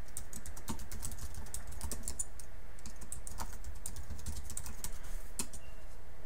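Login details are typed on a computer keyboard in a quick steady stream of close clicking keystrokes over a constant low hum, with no voice.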